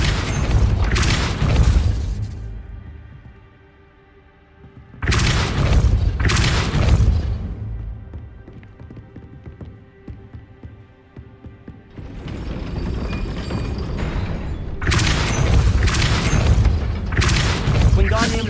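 Depulso force-push spell cast repeatedly in the Hogwarts Legacy video game, heavy booming blasts in bursts around two-second clusters, loud and close, separated by rumbling game ambience.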